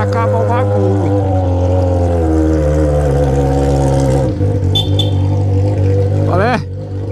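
A car engine drones at high revs, the pitch wavering and climbing, with an abrupt dip and sharp bursts near the end as it bounces off the limiter.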